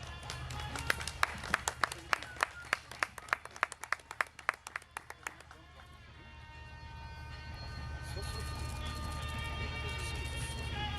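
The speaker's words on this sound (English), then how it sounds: "Another round of applause" Wedding ceremony guests clap in a quick burst of sharp, close claps that fades out midway, leaving a low steady hum with faint voices.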